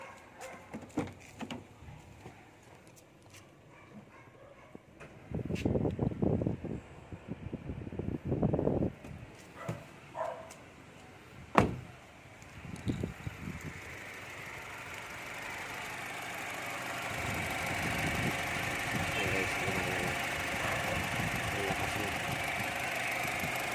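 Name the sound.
repaired Honda Brio radiator fan motor running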